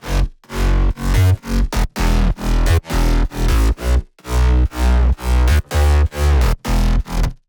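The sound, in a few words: future house drop with brass stabs and bass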